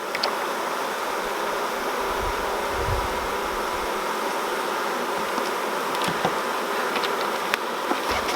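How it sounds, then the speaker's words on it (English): Constant close buzzing of honeybees inside a hive while sugar syrup is fed, a dense steady drone with a few faint knocks. "There are some bees in there"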